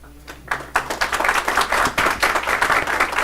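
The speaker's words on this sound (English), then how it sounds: "No clapping, please." An audience at a city council meeting breaks into clapping after a brief pause, the scattered first claps quickly building into steady, fairly loud applause.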